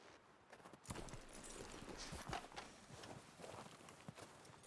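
Hooves of a horse clip-clop in a Wild West role-play video game, a faint, steady run of footfalls close by with no talk over them.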